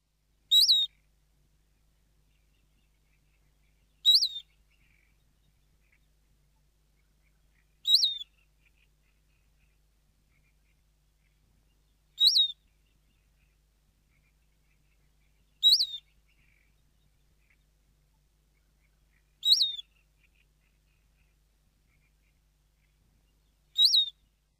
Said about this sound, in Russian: Суслик.